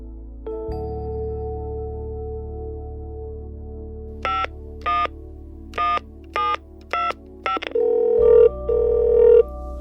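Telephone keypad dialing: a run of six distinct tone beeps in quick succession over a steady hum, followed by two longer ringback tones, close and clear, with no talking.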